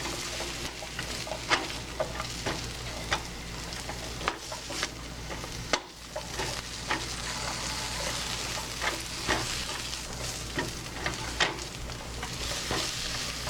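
Onions sizzle and fry steadily in a pan while being cooked down toward caramelized, with a constant crackling hiss and occasional scrapes and taps of a utensil stirring them throughout.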